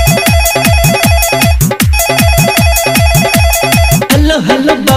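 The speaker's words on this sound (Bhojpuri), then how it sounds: "हेलो हेलो बाबा फोन उठाव" A telephone ringtone rings loud and close in a fast, repeating electronic melody, looping steadily for several seconds before the pattern changes near the end.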